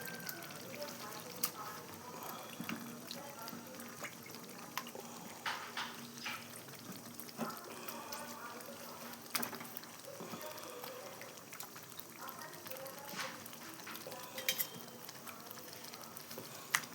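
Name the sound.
meat frying in cooked spice masala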